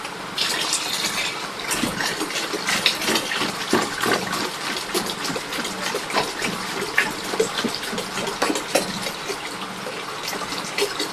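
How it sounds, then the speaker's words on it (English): Water gushes into a container while juice is being made, a continuous splashing, bubbling pour that stays loud and close from start to finish. "Let me now add water."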